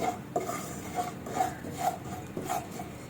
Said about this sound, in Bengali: আর একটু দিয়ে দেব ফোড়ন, দিয়ে দেব, দিয়ে এবার কিন্তু একটু ভালোভাবে নাড়াবো।